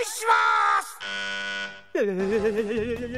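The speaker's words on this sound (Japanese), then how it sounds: "さあすでにブザーは鳴ったのだよ" A buzzer sounds to start a watermelon-splitting contest: sustained harmonic electronic tones in shifting segments, loud and close, with a voice-like wavering tone at the end.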